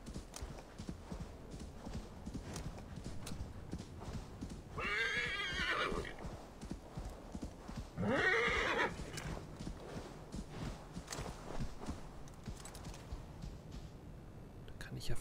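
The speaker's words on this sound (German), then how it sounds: "Ist das voller Galopp?" Horse galloping in the video game Assassin's Creed Valhalla, steady rapid hoofbeats running throughout with two loud whinnies partway through, while someone talks over it.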